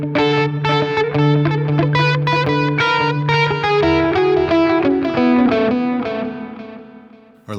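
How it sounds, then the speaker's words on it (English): Electric guitar played through a Joyo D-Seed II delay pedal in Space mode, with repeated picked notes and chords trailing into reverberant, smeared echoes, loud and close, fading out toward the end. "So it's almost like a delay that has reverb in the delays."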